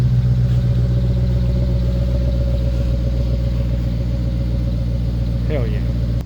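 A 2022 Shelby GT500's engine runs at a steady, smooth idle close by, a constant low hum with no revving.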